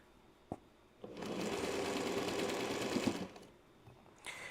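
A Juki 301 sewing machine runs in a single sustained burst of fast, even stitching for about two seconds, close and clear, with quiet moments and small clicks before and after.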